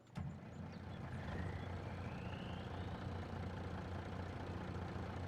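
A Volvo VNX truck engine idles in a truck simulator game, a steady low diesel rumble heard from inside the cab, with a brief sharp knock at the start.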